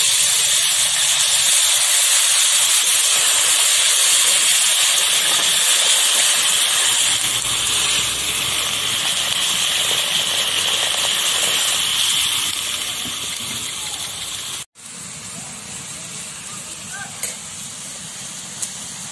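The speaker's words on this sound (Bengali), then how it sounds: "এরপর দেব পরিমাণ মতো জল।" Water poured into a hot pan of frying amra chutney gives a loud, steady steamy hiss and sizzle that fills the whole stretch, easing slightly toward the end, with a brief break and a faint clink.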